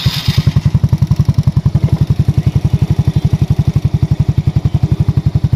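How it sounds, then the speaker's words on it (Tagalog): A Honda Mio Sporty scooter, about three years old and running on Extreme 1 oil, idles steadily at close range with an even, rapid thumping beat. The engine stays smooth and unbroken throughout, with no voices. "Napaka-smooth ng makina, di ba?"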